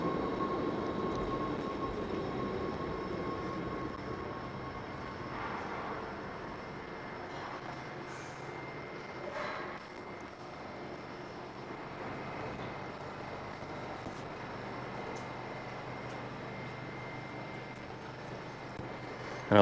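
A train at a station in Houten, Netherlands rumbles steadily, its low mechanical drone with faint squeals and clanks filling the air, no one speaking.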